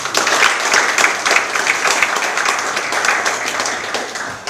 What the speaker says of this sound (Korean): 이현욱 우리 의원님께 여러분 큰 박수 한번 보내주세요